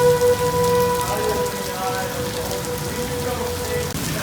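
Hail falls on the ground during a storm under a tornado warning, making a loud, steady, dense patter that lasts the whole stretch, with faint tonal hums in the background.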